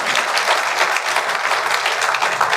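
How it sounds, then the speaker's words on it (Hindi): Audience applause at a memorial lecture event, dense steady clapping from a crowd throughout, loud and continuous with no break. "ताली जोर से बजा दीजिए।"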